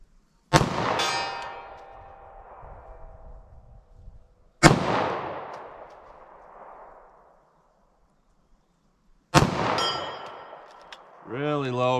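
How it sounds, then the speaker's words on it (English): Three sharp 9mm handgun shots fired at a target 75 yards away, spaced about four seconds apart, each a loud crack with a ringing tail. A brief tonal noise follows the last shot. "So 9mm, see if I can make any hits at 75 yards."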